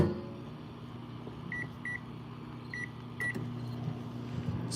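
A microwave oven hums steadily with a low drone, punctuated by several short, clear beeps in pairs, close and unaccompanied by talk.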